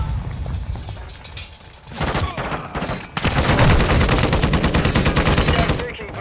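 Sustained automatic gunfire in Call of Duty: Modern Warfare 2, loud and dense rapid bursts that build from about two seconds in and keep rattling on steadily, with some voice underneath.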